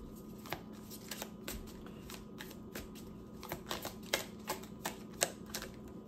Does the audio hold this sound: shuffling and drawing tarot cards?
yes